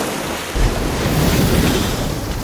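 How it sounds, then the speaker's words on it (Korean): In a film scene, heavy ocean waves crash against a raft at sea as a loud, continuous broadband roar that swells in its lower rumble after the first half-second. "예상대로 거센 파도가 몰아치고"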